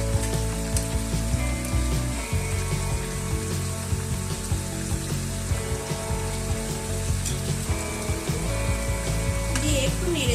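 Eggplant pieces go into a pan of mixed vegetables frying for traditional Bengali shukto, giving a steady close sizzle with a few stirring scrapes under a continuous tonal background.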